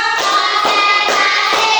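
A classroom of students claps hands together on a teacher's count, a dense, loud burst of many overlapping claps with rhythmic surges about every half second.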